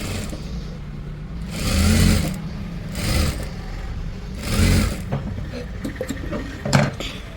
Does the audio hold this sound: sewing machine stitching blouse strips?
yes